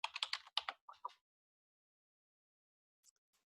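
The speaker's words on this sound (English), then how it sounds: "Begin by opening a browser window and typing PubMed" Fingers tap out a quick burst of keystrokes on a computer keyboard, about eight close, crisp clicks in rapid succession, followed by a long silence and two faint final taps.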